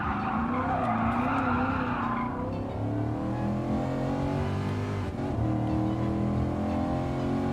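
A race car in GT Sport braking very late with tires skidding and squealing, the engine droning loudly underneath as the screech slides down in pitch before the car settles and carries on.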